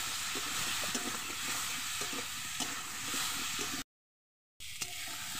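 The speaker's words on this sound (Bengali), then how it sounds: "আমি সামান্য আদা বাটা নিয়ে আমি ভালো করে আর একটু কষিয়ে নেব, যাতে আদার কাঁচা গন্ধটা না থাকে।" Ginger paste being sautéed in a pan for a Bengali vegetarian curry, with a steady close sizzle and occasional stirring scrapes, then a brief drop to silence before the frying resumes.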